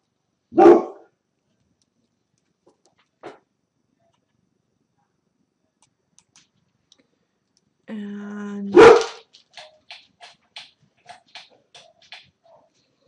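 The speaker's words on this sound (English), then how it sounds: "our dog's excitable today." An excitable dog barks loudly indoors in a few separate outbursts, the last followed by a rapid run of short yips and a whine, with a brief spoken word in between.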